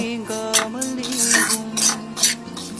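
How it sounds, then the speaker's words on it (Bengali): Semolina fried in ghee in a wok over a low flame, stirred with a utensil that gives rhythmic scraping strokes against the metal, about six strokes in under three seconds, close and fairly loud with ringing tones. "প্রথমে কড়াইয়ে 1 থেকে 2 চামচ ঘি গরম করে 1 বাটি সুজি দিয়ে লো ফ্লেমে 1 মিনিট মতো ভেজে নেব"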